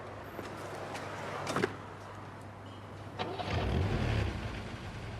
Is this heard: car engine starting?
yes